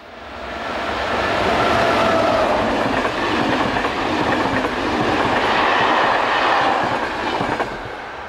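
An SNCF BB15000 electric locomotive hauling a passenger train rumbles steadily past at close range, its wheels clattering over the rails and a faint squeal rising and fading, with no voices.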